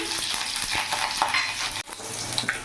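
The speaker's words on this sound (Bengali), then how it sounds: "তেল গরম হয়ে গেছে গোটা জিরে ফোড়ন দিয়ে দিলাম কাঁচা লঙ্কাও ছিঁড়েছি ওটাও দিয়ে দিলাম" Whole cumin seeds and torn green chilies hit hot refined oil in a pan, giving a steady close crackling sizzle with scattered pops, briefly dipping before the frying hiss resumes.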